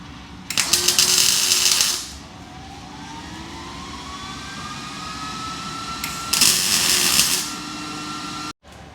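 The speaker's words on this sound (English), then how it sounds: "We'll fire up the MIG welder, tack them, see how it fits, and go from there." A MIG welder tack welding a steel bash bar for an E46, two loud crackling bursts of welding, each about one and a half seconds long, separated by a quieter pause, then a sharp cut near the end.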